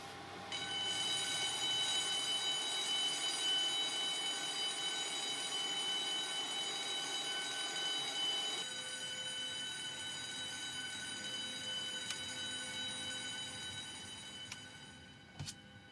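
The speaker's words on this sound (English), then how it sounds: "Now that jetways are animated, they make sound when moving too." Animated jetway moving at an airport gate in the X-Plane 12 flight simulator: a steady mechanical whine with tonal hum, shifting pitch partway through as the motion changes, then tapering off near the end.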